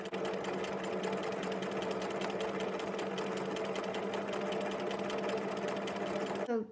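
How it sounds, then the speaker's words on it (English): A sewing machine free-motion quilting with a number 24 free-machine embroidery foot, its needle running in a steady, fast, even whir for several seconds before stopping, close up with no talking. "the number 24 foot allows you to move the fabric right, left, forwards and backwards as if you're doing normal free machine embroidery."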